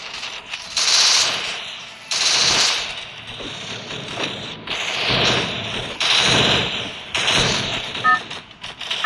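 Gunfire and mechanical clatter from the video game Free Fire come in loud bursts of rapid ratcheting shots separated by short quieter gaps, with no speech over them.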